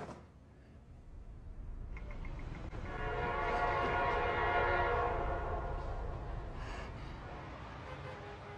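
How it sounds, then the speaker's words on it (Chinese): A train horn sounds near Beijing railway station, a sustained tonal blast that swells in over rumbling rail noise and fades slowly. No one speaks. "你看北京火车站不就在那儿吗？"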